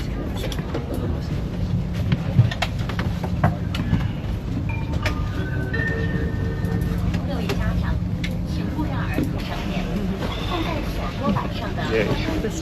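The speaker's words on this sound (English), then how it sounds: "As long as everyone's on, the train goes." Interior of a busy Chinese high-speed train running from Suzhou to Beijing, with a steady low rumble and hum of the moving carriage under continuous chatter from passengers nearby.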